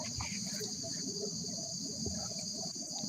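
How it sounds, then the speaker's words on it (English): Steady high-pitched cricket chirping runs continuously throughout, with faint low background sounds and occasional soft noises beneath it. "There are crickets over there."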